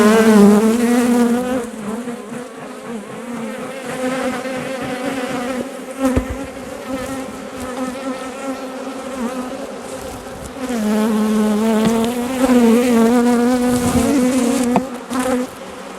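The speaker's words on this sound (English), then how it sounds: "The bees really glue these in really well. So they're getting a bit cranky." Honeybees from a caught swarm buzz loudly and closely as their hive is opened and frames are pried loose, a dense agitated hum that swells and dips in waves, with no one talking.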